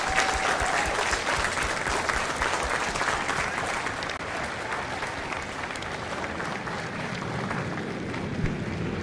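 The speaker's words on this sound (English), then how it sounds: "a round of applause for their dedicated service to Corps and country" A large crowd at a Marine Corps recruit graduation at MCRD San Diego applauds former Marines, a dense, steady roar of clapping that holds for several seconds before easing slightly.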